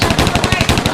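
Rapid machine-gun-style gunfire sound effect for a student drama, a dense continuous burst of shots filling the whole moment, loud and close.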